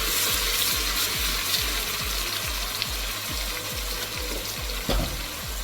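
Seasoning and pepper are stirred into a bubbling Nigerian native gravy. A loud, steady sizzle carries a regular, rapid ratcheting rhythm underneath from a mechanical hum, continuous and close with no talking.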